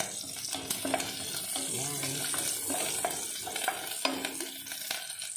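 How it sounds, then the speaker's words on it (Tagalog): Whole unpeeled-into-pieces garlic cloves frying in hot oil, a soft continuous sizzle with light stirring clicks and scrapes, no voices. "Next na ilalagay ko ay bawang."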